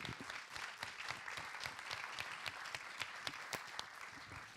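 Applause from an audience at a master's thesis defense, a steady patter of many clapping hands filling the room for several seconds with no talk over it.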